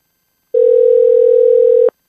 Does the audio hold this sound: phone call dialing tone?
yes